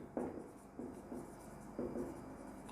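A pen scratches out chemistry notes during a lesson, with several short bursts of writing strokes separated by pauses, close up and fairly quiet.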